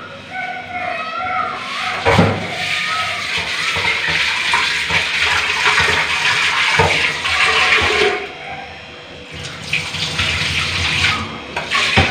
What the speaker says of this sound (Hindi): दाल को अच्छे से वॉश कर लेती हूँ, अच्छे से वॉश करती हूँ दाल को